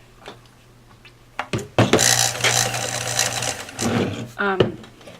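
A freshly oiled sewing machine left running: clicks and short bursts, then a steady loud whirring run lasting a few seconds, stopping and briefly restarting, with light handling noises nearby.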